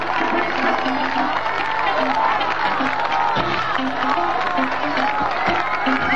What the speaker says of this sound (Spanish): A ver ese aplauso que se escuche de su pueblo que aclama a estos magníficos artistas